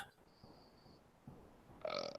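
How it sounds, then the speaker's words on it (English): A single burp rises near the end, short and close, after a quiet stretch with faint room noise and a thin background tone. "Yeah, I burped too"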